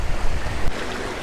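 A rushing mountain stream at a water crossing on the Gangotri to Gomukh trek near the Gangotri Glacier: continuous broadband roar of fast water, close and loud, with buffeting wind on the microphone and no talk.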